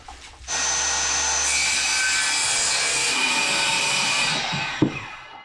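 Steady rasping of a saw cutting through wood, loud and close, running continuously for several seconds before a brief clunk at the end.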